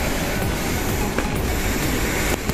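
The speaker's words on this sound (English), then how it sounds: "This is the luxurious metro station." Trains run through a luxurious metro station, a steady loud rumble of rolling carriages with clattering wheels and faint squeals filling the whole stretch.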